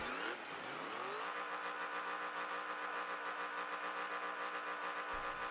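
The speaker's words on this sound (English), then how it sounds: "Got that engine revving and ready to go." A car engine in a racing video game revs up and settles into a loud, sustained drone with a steady mid-pitched hum, heard alone without talk.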